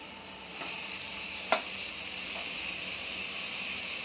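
Spinach leaves dropped into a hot pan with softened tomato give a steady, moderately quiet sizzle and hiss, with a few faint stirring clicks over the top.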